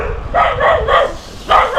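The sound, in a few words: dogs barking in a village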